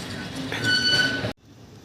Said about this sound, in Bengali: ওভারব্রিজের উপর দিয়ে মেট্রো যাচ্ছে